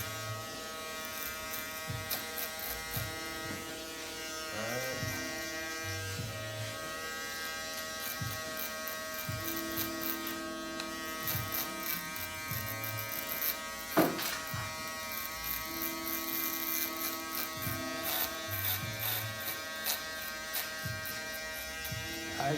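An electric shaver buzzes steadily against a client's head during a bald fade haircut, close and continuous, with its pitch wavering slightly as it moves across the scalp.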